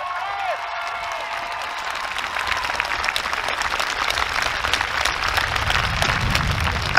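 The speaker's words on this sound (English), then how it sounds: "Give yourself a round of applause for being here for the start." A crowd at a Black Lives Matter rally in Edinburgh breaks into sustained applause with some cheering, building in density and loudness over several seconds, with a voice briefly audible at the start.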